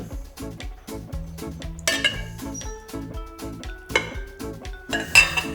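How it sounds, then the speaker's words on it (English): Wet and dry seitan dough ingredients are mixed in a kitchen bowl, with a steady run of clinking and knocking utensil-on-dish sounds, close and moderately loud, and no talking. "let's get that wet batch and that dry batch, and let's mix that up"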